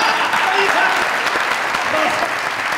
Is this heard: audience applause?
yes